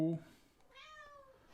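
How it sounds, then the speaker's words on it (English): A house cat gives one short rising meow indoors, close to the microphone, right after a brief burst of talk. "I'll let my cat in here."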